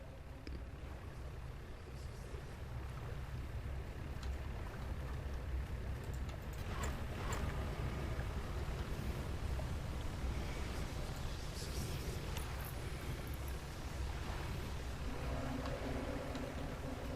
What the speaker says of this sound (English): I hear one of those fish boats